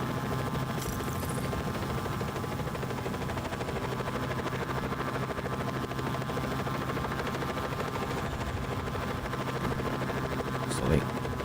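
A helicopter in an Xbox video game lands on a helipad, its loud, steady rotor and engine drone filling the whole stretch without letup.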